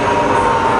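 A rebuilt Bridgeport milling machine with a 42-inch table runs its spindle in high range at about 1300 RPM, giving a brief, steady, close hum with an even mid-pitched whine.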